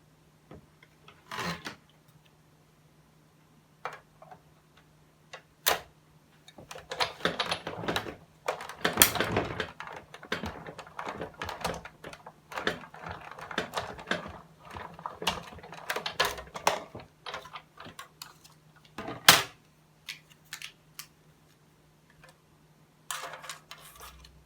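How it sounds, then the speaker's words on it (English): Everyday Jars framelits dies cut a small paper jar lid, alongside a Happy Birthday die, heard as irregular rasping, rubbing and ticking scrapes of metal and paper, close and moderately loud, in scattered bursts over a low hum. "We'll cut out this little jar lid using the Everyday Jars framelits dies, and also a Happy Birthday die"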